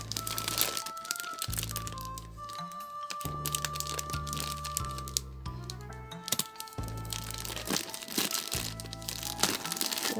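Plastic packaging around a manga magazine crinkles and crackles up close as tape is peeled away, with bursts of rustling broken by brief pauses under a steady musical backing.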